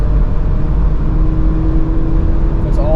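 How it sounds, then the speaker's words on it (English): A 2022 Porsche Macan base model in sport mode, its engine and exhaust note running through an open valve on the left tailpipe, a steady loud drone with a tone that climbs near the end. "When you put this car into sport, a valve opens on the left tailpipe that allows for a little bit throatier"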